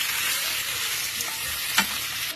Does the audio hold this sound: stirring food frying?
yes